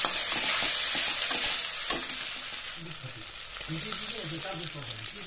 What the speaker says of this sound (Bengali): দিয়ে ভালো করে নেড়ে চেড়ে মশলাটাকে কষিয়ে নিতে হবে।